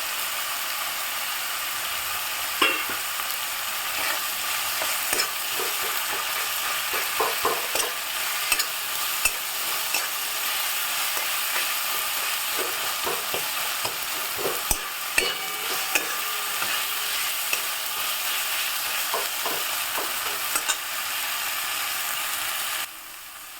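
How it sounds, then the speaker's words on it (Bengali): Chopped onion sizzling in hot oil while a spatula stirs and scrapes the pan, a steady close frying hiss broken by frequent clicking scrapes. "পেঁয়াজ কুচিটা দেওয়ার পরে আমি নেড়ে নিয়ে"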